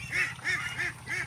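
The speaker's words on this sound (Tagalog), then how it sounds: "Mga babaeng itik, maingay." Female ducks quack noisily at a flooded rice-paddy duck farm, four loud nasal calls in a steady rhythm, close by, with no talking.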